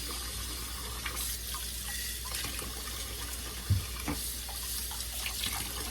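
Canning jars rinsed under a running kitchen tap, a steady hiss of flowing water with small splashes and clinks as the glass shifts beneath the stream.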